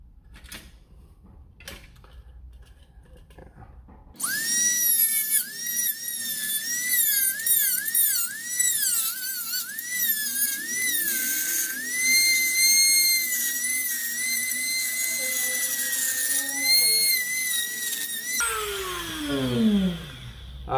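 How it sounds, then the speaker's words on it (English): High-pitched whine of a rotary tool fitted with a saw blade cutting into a shell, loud and close for about fourteen seconds with a wavering pitch, then winding down; quiet handling noises come before it. "gonna try with the saw first, and then when I need to get in there, I'll use this bit"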